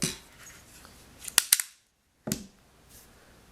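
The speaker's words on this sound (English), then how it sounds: "we're going to go ahead and take off the slide" The slide comes off a Sig Sauer pistol with a few sharp metallic clicks and snaps close up, then a brief silence and one more click.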